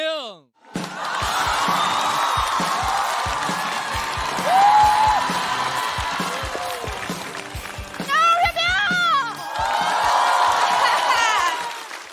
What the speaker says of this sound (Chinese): 我们掌声有请月明